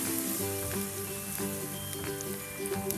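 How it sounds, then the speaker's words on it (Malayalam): Egg bajji deep-frying in hot oil, a steady close sizzle with small crackling pops throughout, moderately quiet and without voices. "ബാക്കിയുള്ളത് ഇതുപോലെ തന്നെ ഫ്രൈ ചെയ്തെടുക്കുക"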